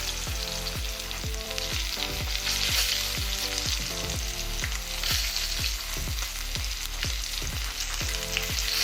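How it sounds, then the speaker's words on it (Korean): A 30 cm tomahawk steak sears in a pan over a gas flame, a steady loud sizzle with regular rhythmic thumps from the meat being shifted or flipped, no voices. "앞에서와 같이 조금씩 팬에서 고기를 이동시키면서 구워주시면 됩니다"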